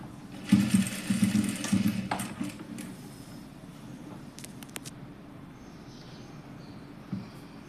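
A sewing machine stitches across the joint of a zipper seam to keep the runner from sliding off, running in one steady burst near the start, then giving way to quieter handling sounds and a few faint clicks.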